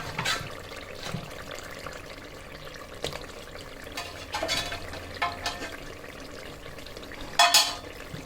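Mutton pieces browning in a pan of softened tomatoes and spice masala for Gonglu Gosht, a low steady sizzle with occasional stirring scrapes and a brief louder clatter near the end, no talking.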